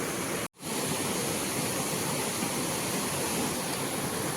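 A stream in a year-round flowing creek where crab traps are set, heard as a loud, steady broadband rush of water close by, with a brief cut near the start and no voices.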